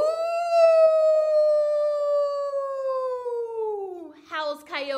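A storyteller's voice imitates a coyote howl, one long sustained rising-then-falling vocal howl lasting about four seconds, loud and close, followed by a brief burst of speech.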